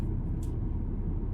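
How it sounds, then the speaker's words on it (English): Thunder rumbling as a steady, deep, low roll that persists throughout, loud and close, with a couple of faint higher clicks and no talking. "Ooh, thunder."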